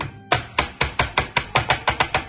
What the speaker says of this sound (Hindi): उसको ऐसे छोटा छोटा काट के उसका घर में ही मैंने कीमा बनाया